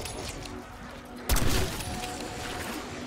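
A single heavy sniper rifle shot in Black Ops 6 Zombies, one sharp loud crack with a short rumbling tail, over quiet game ambience.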